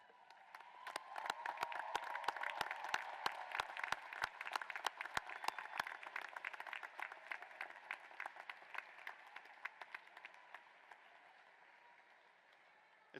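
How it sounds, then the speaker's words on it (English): A graduation ceremony crowd breaks into applause, with sharp individual claps standing out early before the clapping swells, stays dense, then gradually thins and fades. "let's give everybody behind you a big round of applause"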